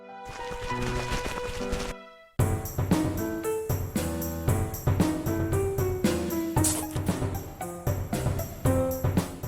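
Full, dense instrumental music from the remastered Plants vs. Zombies Replanted soundtrack, with layered melody and percussion, opening with a short section that cuts to near silence before a fuller arrangement kicks in.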